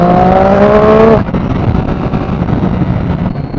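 A Triumph Street Triple R motorcycle with a full Arrow exhaust revs hard and accelerates, a loud rising engine note that cuts off abruptly and gives way to rough wind and road noise as it pulls away.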